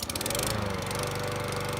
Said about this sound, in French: Mais ne serait-ce pas le voisin qui passe la tondeuse?